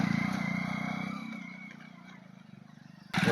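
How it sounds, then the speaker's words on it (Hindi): A motorcycle rides along a narrow, rocky jungle path, its engine droning and rattling close by and slowly fading, then rising sharply again at the end. "इस जंगल में चलती हुई बाइक कैसी दिखाई देती है"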